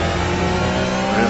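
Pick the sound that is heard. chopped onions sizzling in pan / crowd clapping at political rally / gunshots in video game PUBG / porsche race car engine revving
porsche race car engine revving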